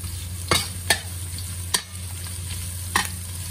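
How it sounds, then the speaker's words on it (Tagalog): Garlic and ginger sautéing in a pan for lamb soup, a steady low sizzle broken by four sharp stirring scrapes spaced through the clip, close and moderately loud with no voices. "magigisa na tayo ng bawang"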